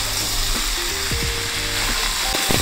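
Ridge gourd, cauliflower and other vegetables for a mixed veg labra fry loudly in a pan, a dense continuous sizzle with scraping stirring strokes close by.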